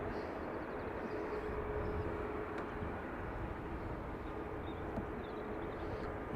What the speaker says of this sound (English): Ryanair from Liverpool, next to land.